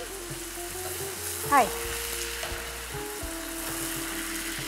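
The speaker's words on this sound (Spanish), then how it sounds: "vamos a flambear" Kidneys cooking in sherry in a very hot pan give a steady, close sizzle and fry, with a brief flare as they are flambéed; a voice speaks one short word.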